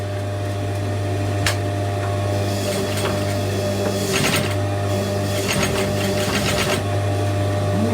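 A sewing machine fitted with a binder foot runs steadily over thick seams, a continuous close mechanical hum with a few brief rougher surges and clicks as it pushes through the bulk.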